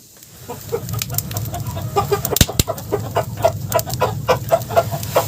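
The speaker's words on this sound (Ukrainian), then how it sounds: "Півники кличуть своїх дам" Roosters in a farmyard poultry flock call and cluck to their hens, a busy run of repeated short calls and clucks close by over a low background hum, with one sharp loud burst midway.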